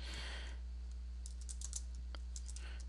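Someone types on a computer keyboard while entering column headers into an Excel spreadsheet, with quick irregular bursts of soft, fairly quiet key clicks over a low steady hum.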